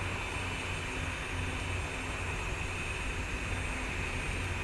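Steady broadband roar of an airliner's engines on approach to land in a flight simulator game, a constant even drone with no talk over it.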